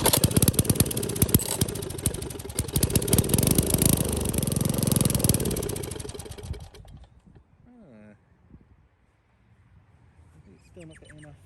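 An old 3.5 hp Tecumseh small engine sputters and fires unevenly for several seconds as it tries to start, then dies away into quiet, with brief faint bird chirps afterward.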